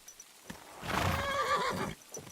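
A single horse in Kingdom Come: Deliverance 2 whinnies loudly for about a second, a rising and falling neigh over quiet background with faint clopping before and after.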